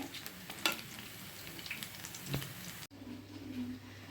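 Urad dal vadas fry in hot oil in a home kitchen, giving a soft, quiet sizzle with scattered crackles and pops, then a sudden cut to a calmer, lower bubbling hiss near the end.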